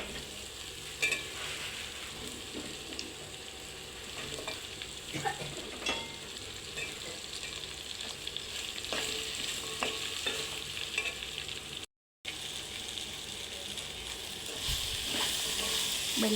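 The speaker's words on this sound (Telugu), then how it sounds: "ఇప్పుడు బెండకాయ ముక్కలు యాడ్ చేసుకోవాలి." Okra pieces fry in a pan with green chili and turmeric, giving a long, steady, moderately quiet sizzle. Scattered crackles and stirring scrapes run through it, with a brief dropout partway and no speech.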